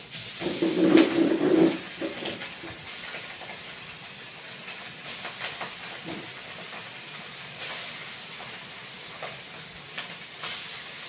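Bata fish sizzle and hiss steadily in hot oil in a home kitchen, a continuous bright frying crackle with louder bursts at the start when the pieces settle.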